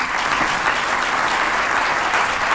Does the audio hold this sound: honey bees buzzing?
no